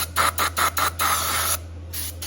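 Smell Good cleaner is sprayed into the glow plug opening of a Chinese diesel heater in four quick hissing bursts from a trigger bottle, then one longer spray, close to the microphone over a steady low hum.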